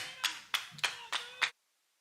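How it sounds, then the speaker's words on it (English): Five sharp, evenly spaced claps ring out from a baseball team in the third-base dugout during a college championship game, each burst bright and close, then stopping abruptly into silence. "You might be able to hear them cheering and clapping."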